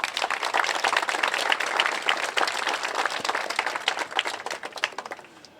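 A room of rowing coaches and coxswains at a masters national regatta meeting gives a quick round of applause, dense and steady clapping that fades slightly toward the end.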